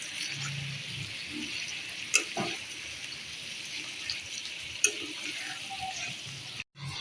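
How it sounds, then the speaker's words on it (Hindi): Shredded cabbage fries in a pan for chicken chowmein, a soft, fairly quiet sizzle under a few sharp clicks and clatters of utensils, with a brief dropout near the end. "ये बंद गोभी है, इसे हम फ्राई कर रहे हैं।"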